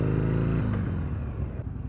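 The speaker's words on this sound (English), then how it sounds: "So we're gonna go down the back streets here real briefly, take it for a quick spin." A Harley-Davidson Sportster XL883 motorcycle pulls away on a warm day, its loud, close engine rumble dropping in pitch as it shifts and rides off, with no talking.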